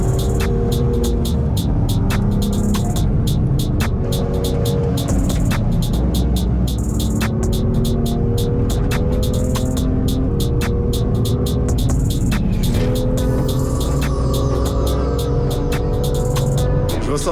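Inside a BMW M2 driving on a race circuit, the engine drones loudly and constantly with rising and falling pitch as gears change, accompanied by rapid ticking noises throughout.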